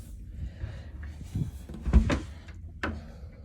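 A closet door in a cruise ship cabin is handled close by, with a few soft knocks and a sharp clack near the middle, then a later click, amid light rustling.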